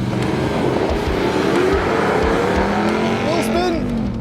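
RAM TRX and Ford Raptor R performance trucks racing side by side, engines roaring loud and steady throughout with rising revs near the end, while a person talks over the noise.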